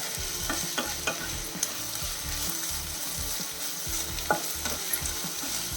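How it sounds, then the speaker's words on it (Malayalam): Chopped onions frying in oil in a pan on medium heat while being stirred, a steady close sizzle broken by repeated scraping and clicking of the spoon against the pan, with no voices. "അപ്പോൾ നമ്മുടെ സവാള നല്ല രീതിയിൽ വഴഞ്ഞിട്ടുണ്ട്"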